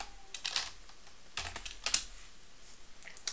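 Keys clatter on a computer keyboard as commands are typed into a Linux shell, short bursts of quiet, close clicks with small pauses between them.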